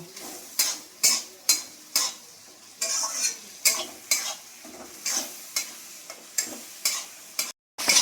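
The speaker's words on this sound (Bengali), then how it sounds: "মশলাটা আমার ভালো করে ভাজা হয়ে গেল।" Masala of chili powder and salt frying in a pan, a soft sizzle broken by a dozen or so sharp, rhythmic stirring scrapes of a spoon against the pan, close and clear with no talking.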